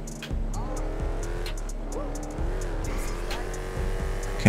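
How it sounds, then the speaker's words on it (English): Car spinning out with squealing tires in a video game, a steady engine drone with sliding tonal squeals rising and falling across the clip, fairly loud and continuous. "Whoa, car spinning around and stuff."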